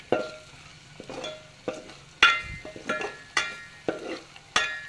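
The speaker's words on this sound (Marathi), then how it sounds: "वाटणामध्ये लसूण कांदे खोबरं आणि कोथंबीर याचं वाटण आहे याला दोन मिनिट परतायचे चांगल्या प्रकारे" A paste of garlic, onion, coconut and coriander stir-fried in a pan for a village-style mutton curry, with a steady sizzle broken by regular scraping stirs and spoon knocks about every half second, close and clear, no talking.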